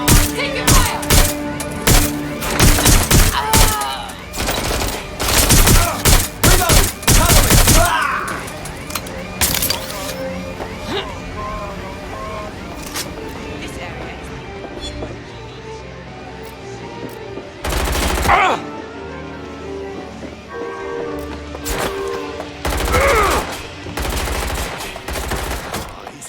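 Heavy gunfire in the open-world game Watch Dogs Legion, dense automatic bursts and single cracks loud in the first eight seconds, then sporadic volleys later, with shouted voices in between.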